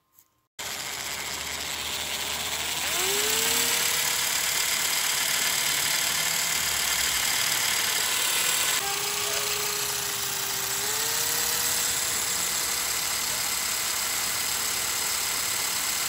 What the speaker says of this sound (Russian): Вставляем ее в шуруповерт.